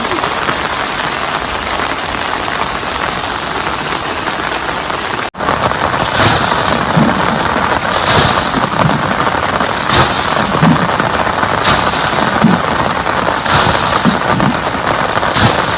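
Heavy rain pours onto tents beside a river in the Sundarbans, a dense continuous hiss of drops with a few heavier pattering bursts, close and loud, with no talking.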